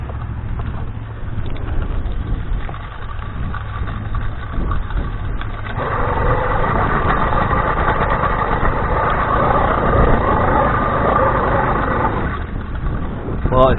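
A motorized bicycle's small engine catches and runs, a steady mid-pitched buzzing drone that grows louder after a quieter start, with a person talking at times over it.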